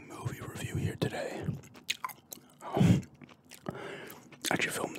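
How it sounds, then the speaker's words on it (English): Close-up gum chewing with wet smacks and soft crunchy bites in an irregular rhythm, intimate and quiet, alternating with low soft-spoken talk. "Doing a gum chewing movie review here today."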